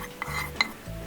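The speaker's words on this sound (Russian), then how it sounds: "Добавляем в кастрюлю обжаренный лук." Fried onion tipped into a cooking pot, giving a short clatter of pot and utensil with a couple of sharp metallic clinks, close and moderately loud over a steady kitchen background.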